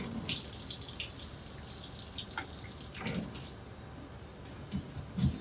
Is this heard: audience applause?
no